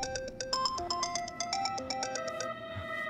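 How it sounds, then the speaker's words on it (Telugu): A mobile phone ringtone plays a bright, repeating electronic melody of quick, evenly spaced notes, close and clear, with no talking over it. "Ring tone."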